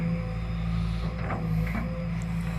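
A Sumitomo SH210F6 excavator's direct-injection, twin-cam 16-valve long-stroke four-cylinder diesel idles steadily close by, a continuous low hum with faint mechanical rattles and no talk.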